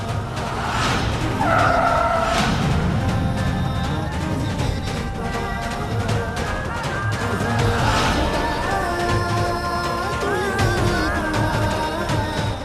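A car brakes hard and its tires skid and squeal across the road, loud and sustained, mixed under dramatic background music with no clear talk.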